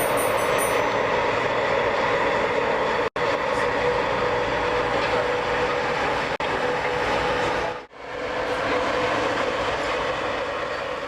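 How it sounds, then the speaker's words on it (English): An iron ore train departs past Immingham West Junction signal box, heading for Scunthorpe, with a loud continuous rumble of wagons rolling by and rhythmic wheel clatter up close. "As the ore train departs,"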